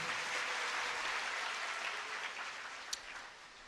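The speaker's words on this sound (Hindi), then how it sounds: "इस ट्रस्ट के लिए, इस समिति के लिए एक बार जोरदार ताली लगाई जाए" Devotees at a Shrimad Bhagwat Katha religious discourse in Mathura applaud, a steady, even wash of many hands clapping at moderate distance, with no voices over it.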